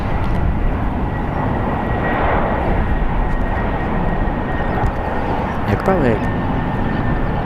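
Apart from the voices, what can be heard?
Alaska Airlines jet arriving on runway 28 right at San Francisco airport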